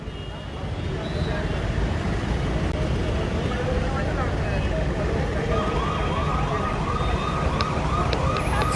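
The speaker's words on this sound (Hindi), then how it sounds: "सायरन मारती गाड़ियाँ अब आपको दिखेंगी" Emergency vehicles sound their sirens while stuck in a heavy traffic jam at Bikram Chowk, with rising and falling wails over a constant roar of traffic and someone talking throughout.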